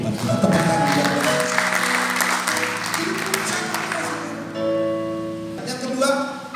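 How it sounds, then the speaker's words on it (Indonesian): A church congregation claps during a worship service, a broad wash of applause blended with music or singing voices carrying sustained tones underneath. "Tepuk tangan buat Tuhan"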